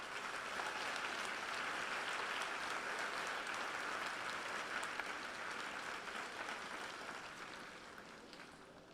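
Audience at a high school senior awards assembly applauds in a large hall, a fairly faint but steady wash of clapping lasting several seconds before gradually fading.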